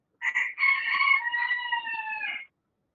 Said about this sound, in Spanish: ¡Ay! Un gallo.